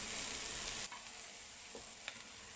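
Ingredients seasoned with salt, sugar and oyster sauce are stir-fried in a wok, giving a loud hiss of sizzling that drops abruptly to a softer steady fry, with a couple of light scrapes of a spatula.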